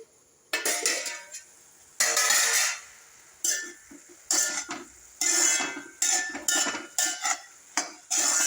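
Millet being stirred in a cooking pot, a series of scraping, clinking strokes of a spoon against metal in irregular bursts, close and fairly loud with short pauses between them.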